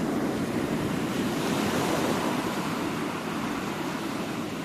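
Sea waves surge and wash onto a sandy beach in a steady, loud, continuous roar with wind hiss, close by and with no voices.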